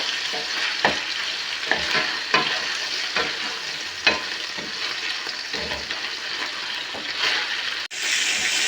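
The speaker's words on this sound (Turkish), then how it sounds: "Etlerime biraz sıvı yağ kattım. Kavuruyorum." Meat sizzles and crackles in hot oil, stirred now and then with scraping clatters, a loud continuous frying hiss.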